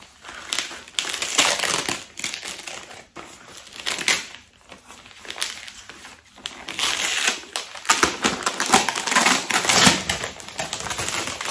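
Paper and plastic wrapping around a parcel holding a comic book album is torn and crumpled open at close range, a steady run of crinkling, ripping and crushing bursts with only brief pauses and no talk.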